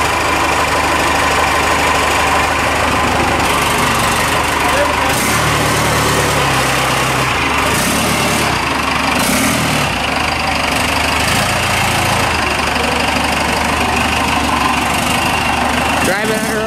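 A Ford F150 truck engine runs steadily at close range throughout, a continuous low rumble with a rough, knocking edge, while people talk over it.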